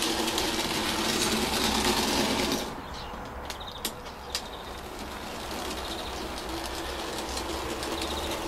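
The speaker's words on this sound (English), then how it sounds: "a pretty nice bit of shunting there" N gauge American model train shunting into a siding, a continuous low rolling rumble and clatter that quiets partway through, followed by a few faint clicks and knocks, close and moderately quiet with no talk.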